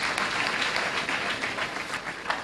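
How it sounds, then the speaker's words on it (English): A graduation congregation audience applauds steadily, dense continuous clapping filling a large hall, moderately loud, with no voices over it. "Shall we give him a round of applause?"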